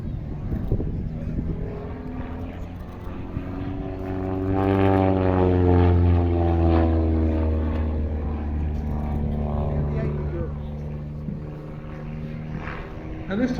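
A Pitts aerobatic biplane flying stall turns at the East Kirkby airshow drones overhead, its propeller engine swelling as it climbs and pulls around before fading away, with a commentator talking throughout.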